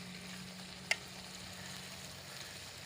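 Green chillies with pumpkin and peas frying in a pan, a faint, even sizzle running throughout, broken once by a single brief click.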